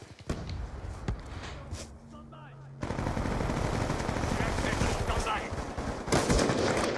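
Gunfire in a first-person shooter video game, with bursts of rapid shots and sharp cracks, a brief lull, then dense continuous firing and action noise, with a voice talking faintly underneath.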